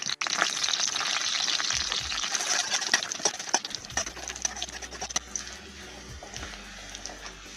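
Finely chopped garlic frying in a spoonful of hot oil in a kadai, for chicken kathi rolls: a loud, steady close-up sizzle with scattered crackles and light stirring clicks.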